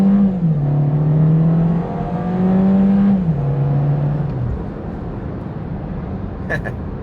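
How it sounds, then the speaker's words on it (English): A 2022 VW Jetta SE accelerates hard from a stop, its engine note rising steadily with a gear change partway through and traction control cutting in as the tires spin, loud and close from inside the cabin. "once again we're spinning tires, but I did, accelerate really fast there"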